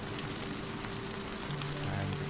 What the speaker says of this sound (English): that's the rain effects on this window.